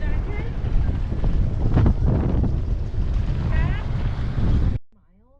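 Strong wind buffeting the microphone in a steady roar in Skagway, Alaska, with faint voices under it before it cuts off abruptly near the end.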